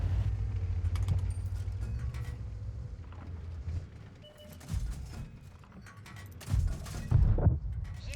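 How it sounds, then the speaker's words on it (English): Tank cannon firing standard rounds from a T-50 in World of Tanks: a few heavy booms over a constant low engine rumble and mechanical clanks, the loudest near the end. "Trying to shoot some of these regular standard rounds."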